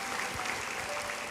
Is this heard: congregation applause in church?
yes